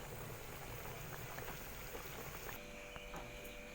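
Dal (lentils) boiling in a pot, a soft continuous bubbling and gurgling simmer heard up close and quiet, with no talking.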